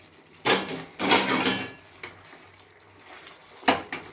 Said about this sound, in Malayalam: ഇനി നമുക്ക് നമ്മുടെ കോൺ വറുത്ത് വെച്ചിരിക്കുന്ന ഇതിലേക്ക് ആഡ് ചെയ്ത് കൊടുക്കാം